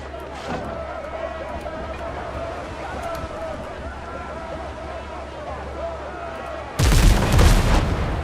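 Ship guns and explosions in the naval pirate game Windrose make a steady rumbling battle din, then a sudden loud blast erupts near the end.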